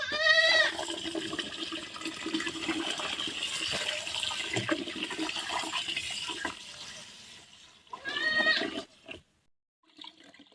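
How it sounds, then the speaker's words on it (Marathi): Water gushes and splashes steadily onto millet in a container for soaking, for several seconds, while a goat bleats at the start and again near the end. "तर मी आता पाणी टाकणार आहे"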